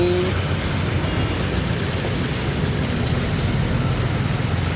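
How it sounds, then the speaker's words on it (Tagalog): Road traffic with buses and cars on a congested street, a close, continuous rumble of idling and moving engines with a low drone throughout. "Traffic po mula Muno hanggang Pilar na ang traffic."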